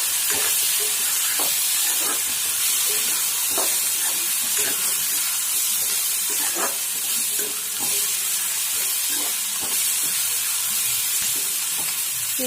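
Maggi Manchurian is stirred in a frying pan, the oil sizzling and hissing loudly and continuously under repeated scraping strokes of a spoon, spaced about a second apart.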